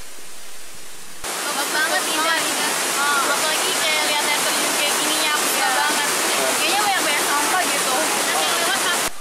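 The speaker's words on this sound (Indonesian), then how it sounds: "Objek wisata ini menyuguhkan indahnya pesona air terjun Cinulang dan sejuknya air yang berasal dari Bukit Karembi." The Cinulang waterfall at Curug Cinulang in West Java sets off a steady, loud rush of falling water that starts suddenly and carries on unbroken, dense and close, with a voice faintly underneath.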